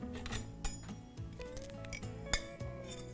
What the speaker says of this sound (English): we'll give our ghee a light stir